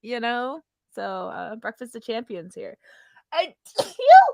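A person speaks, then a single sharp sneeze bursts out near the end.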